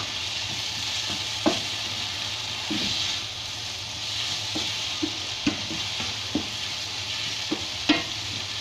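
Meat and vegetables are stirred in a pot at a large-batch Egyptian-style cooking setup, giving a steady sizzle with repeated spoon scrapes and clacks at irregular intervals and no talking.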